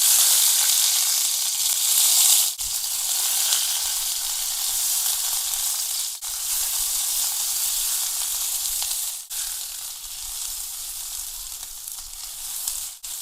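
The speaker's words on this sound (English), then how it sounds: "Once the oil is heated, we can add the chopped onions." Chopped onions sizzle steadily in hot coconut oil for a Bengaluru military hotel-style mutton gravy, a loud, close, continuous frying hiss broken by a few brief dips, with no talking.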